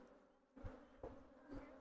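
Honeybees buzz faintly at an opened beehive during feeding work, a low steady hum with a few brief louder swells as bees pass close.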